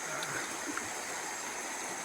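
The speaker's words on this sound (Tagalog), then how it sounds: "Ayan yung ilog." A river stream flows steadily outdoors, a continuous, even rush of water at moderate level with no voices.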